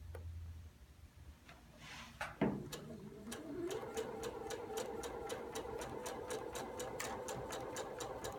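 Sewing machine stitching stretchy bias binding, starting after some soft handling noise and then running with a fast, steady ticking rhythm, close and fairly quiet.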